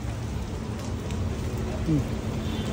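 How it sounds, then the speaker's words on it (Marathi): Steady rain pattering down, a dense continuous hiss with a brief voice-like sound partway through. "पाऊस आलाय."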